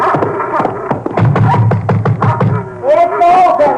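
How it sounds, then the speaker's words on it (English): Knocking on a door in a 1950s radio drama, a run of sharp raps in a quick cluster, fairly close, followed by a voice speaking. "What are you knocking for?"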